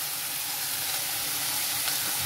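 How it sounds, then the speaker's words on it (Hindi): Chicken stew with green chili fries in a pan, giving a steady soft sizzle and hiss that stays even throughout, with no voices. "Let it fry for some time."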